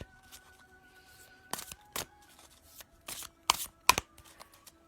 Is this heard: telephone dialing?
no